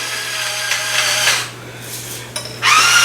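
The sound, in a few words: grinding up tomato soup ingredients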